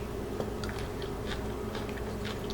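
Close crunching bites into a hard shell jerk shrimp taco, several crisp crackles spread irregularly over a low steady background hum, with no talking.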